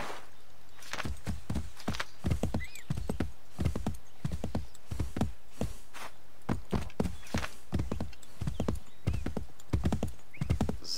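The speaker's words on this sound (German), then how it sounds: "Das Pferd ist irgendwie doch hinter uns hergekommen." Horse hooves clip-clop in a steady walking rhythm in Assassin's Creed 3, with evenly spaced, crisp hoofbeats close by and throughout, plus faint ambient background.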